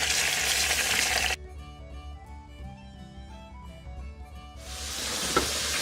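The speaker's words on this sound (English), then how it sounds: "You're gonna take your steak out of the fryer once it's golden brown." Chicken fried steak frying in a deep fryer, a loud broadband sizzle at the start that drops away, then returns strongly near the end, with faint tonal kitchen sounds between.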